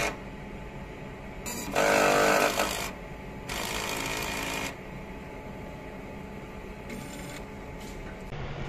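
An eco-solvent printer runs a head cleaning cycle, whirring and buzzing in several separate bursts, with mechanical clicks and a steady low hum between them.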